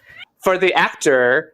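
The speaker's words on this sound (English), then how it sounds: "that's my cat." A house cat meows loudly and close by, several drawn-out calls in quick succession, overlapping a man's brief speech during a podcast recording.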